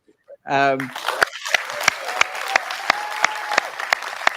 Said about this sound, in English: They only clap when you clap.